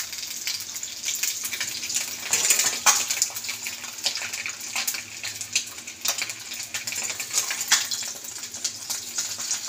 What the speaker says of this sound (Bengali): তো একটু ভাজা হোক এক সাইডে